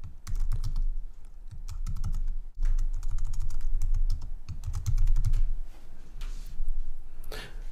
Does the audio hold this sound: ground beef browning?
no